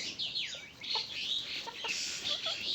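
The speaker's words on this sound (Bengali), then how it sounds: "গ্রামগঞ্জে ফেরিওয়ালার থেকে কেনা দশটি পিস মুরগি দেখেন" Soft clucking and chirpy calls from a few chickens nearby, steady and close, with no talking.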